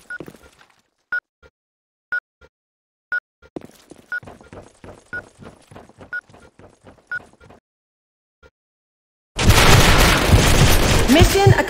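A planted bomb in a video game ticks with evenly spaced beeps that quicken, mixed with faint clicks. After a short silence, a loud, dense explosion fills the final two seconds.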